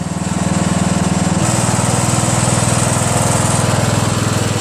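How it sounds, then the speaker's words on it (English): A Craftsman LT1000 lawn tractor with a 15.5 HP Briggs & Stratton engine running close by, a loud, even, smooth drone with a rapid firing pulse that shifts slightly in pitch partway through, alone without voices. "Engine's running good and smooth."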